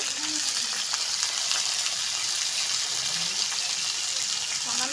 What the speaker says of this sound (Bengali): হালকা করে আমি এটাকে ভেজে নেব পটলগুলোকে